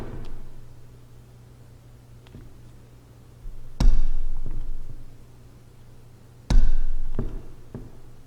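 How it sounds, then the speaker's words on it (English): A dead blow mallet strikes leather for a simple clutch in two loud, dull thumps a few seconds apart, with lighter taps between and a low steady hum behind. "Use this ridiculous looking dead blow mallet."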